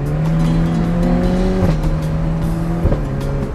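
Ferrari Portofino accelerating hard, its engine note climbing steadily in pitch, pausing briefly for two quick gear changes and then rising again, loud and close with no talking over it.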